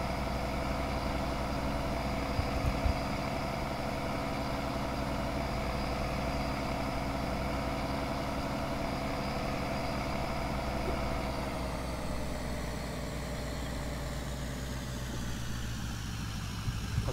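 A heavy truck engine idles in a farming video game with a steady low rumble, its tone shifting slightly toward the end, with no voices.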